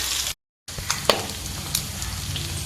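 Goat blood and mutton pieces frying in a pan give a loud, steady close sizzle with a few sharper pops and stirring scrapes, interrupted by one brief silent gap.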